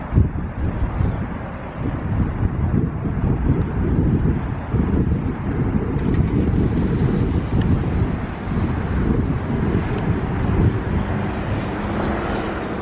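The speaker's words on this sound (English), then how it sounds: "you can just see how windy it is, how it's picking up" Strong gusty wind roars outdoors ahead of a storm, buffeting loudly and continuously with turbulent low rumbling that swells and dips throughout.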